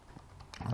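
Brief keyboard typing at a computer, a quick cluster of key clicks building toward the end, close and moderately loud with no talk over it.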